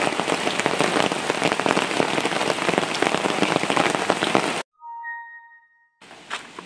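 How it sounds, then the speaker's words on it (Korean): Steady rain drums on the roof of a parked Chevrolet Orlando during rainy-season car camping at a free campsite, a dense close patter that cuts out briefly, leaving a few soft chime-like tones, before resuming. "아, 비 오니까 너무 좋네요."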